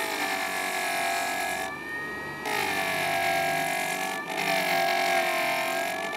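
A JoolTool rotary wheel grinds the corner of a polymer clay piece, a steady high whine with a couple of brief dips where contact eases, close and continuous with no talking.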